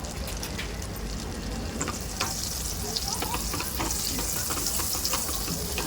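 Loud, continuous sizzle and crackle of cumin seeds frying in hot butter, with faint stirring taps and the sizzle growing brighter partway through.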